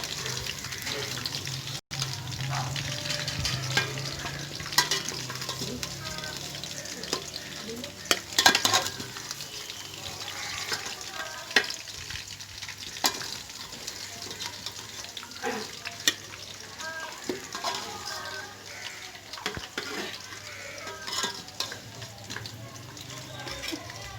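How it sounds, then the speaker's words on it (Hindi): Meat for chicken pulao fries in a pan with a steady, quiet sizzle, broken by occasional stirring scrapes and clatters, while a voice talks at times in the background. "देखिए इसमें गोश्त को मैंने फ्राई इसी तरह कर लिया।"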